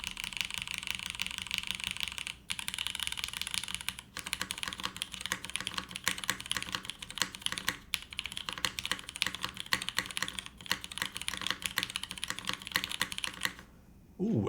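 Typing on a Bauer Lite keyboard with vintage Cherry switches, aluminum plate, no foam and GMK keycaps gives a dense, steady stream of close, crisp keystrokes with a few short pauses.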